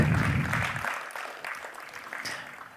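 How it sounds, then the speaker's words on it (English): Applause from a conference audience at a panel discussion and presentation event, greeting a speaker stepping forward; a steady wash of clapping that fades gradually, with a voice briefly audible at the start. "A bigger round of applause, ladies and gentlemen."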